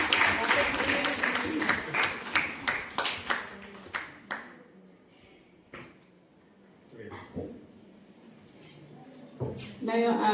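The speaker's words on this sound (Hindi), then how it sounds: "तालियों की गड़गड़ाहट के साथ" Audience applause at a menstrual hygiene and drug awareness event: a burst of clapping with sharp individual claps for the first few seconds, thinning into scattered claps, with some voices and a final cluster of claps near the end.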